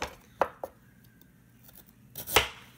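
A knife cuts through lotus root on a board, giving a few crisp, close chops spaced apart, with one sharper, louder cut near the end and quiet room noise between.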